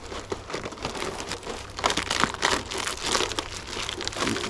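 Plastic wrapping crinkles and crackles as it is pulled off, a continuous rustle with denser, louder bursts in the middle and toward the end, heard close up with no talking.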